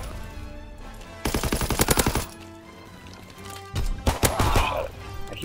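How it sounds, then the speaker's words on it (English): Rapid automatic gunfire bursts in Call of Duty WW2 on the Ardennes map, two loud close volleys of quick repeated shots separated by a quieter gap. "I keep shooting at teammates"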